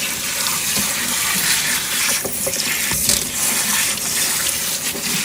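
Tap water runs steadily into a kitchen sink while green beans are rinsed, a continuous splashing hiss with small clicks and knocks of the beans being handled, close by and without talk.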